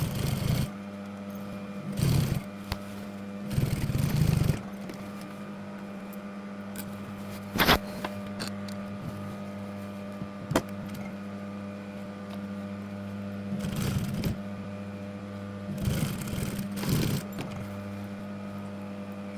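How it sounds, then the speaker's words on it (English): Sewing machine stitching a waistband onto jeans, short bursts of rapid mechanical whirring, each a second or two, separated by a quiet hum and occasional clicks, close and moderately loud. "Sew the waistband in place as shown."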